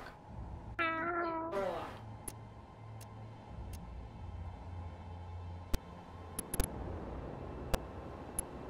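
Cats meowing in the video game Space Engineers, a short run of rising, wavering meows near the start, followed by scattered sharp ticks and clicks over a low background hum.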